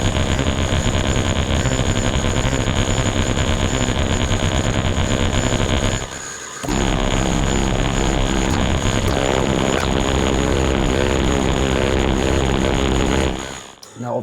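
A patch by Richard Devine on the Motor Synth MkII electromechanical synthesizer plays as a loud, dense, buzzing drone with a steady high whine, breaking off briefly near the middle and again at the end.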